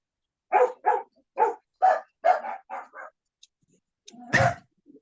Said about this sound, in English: I love dogs, but sometimes they're too mouthy